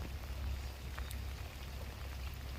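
Steady heavy rain patters across a surface during outdoor fishing, with a low rumbling wind underneath, continuous and fairly quiet with occasional louder drops.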